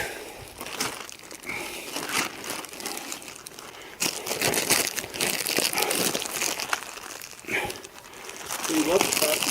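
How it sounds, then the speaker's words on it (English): Plastic bags crinkle and crumple in irregular bursts while Traeger Timberline 850 grill parts are unpacked during assembly, fairly loud and close, with occasional talk in the background. "You love the plastic bags about as much as the blister pack?"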